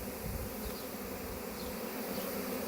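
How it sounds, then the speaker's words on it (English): Honey bee swarm gathered around a tree branch, a dense continuous buzzing hum from many bees close by, steady and moderately faint, with no talking. "not so many bees left up here"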